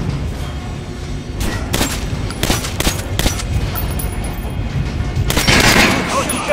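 Gunfire at training dummies in the video game Metro Last Light, several loud, separate shots and short bursts spaced across the clip, with a voice talking between them.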